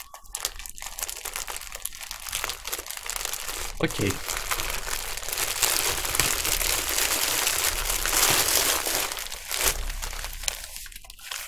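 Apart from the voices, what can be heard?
plastic bag being cut open and crinkled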